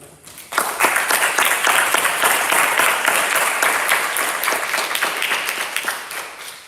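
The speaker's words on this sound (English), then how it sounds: "Let's give a round of applause for them, guys." Audience applause for team members at an IVSA symposium general assembly in Morocco, starting abruptly and sustained as loud, dense clapping from a crowd for several seconds.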